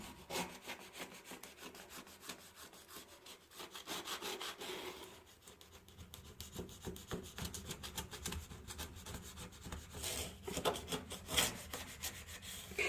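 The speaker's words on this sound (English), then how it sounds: "we're just gonna go along here with our blade" A blade scraping built-up gunk off a surface during professional end-of-lease cleaning, a continuous gritty rasping with uneven rhythmic strokes, close and fairly loud.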